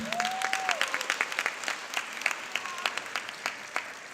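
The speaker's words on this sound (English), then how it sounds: "give applause to our band" Steady applause for a band from an audience at a high school graduation ceremony, with distinct loud claps popping through the crowd, and a short whistled tone at the beginning.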